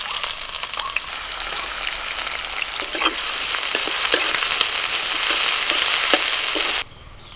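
Chopped onion frying in hot mustard oil in a wok, a steady loud sizzle with stirring scrapes that builds slightly, then cuts off abruptly near the end.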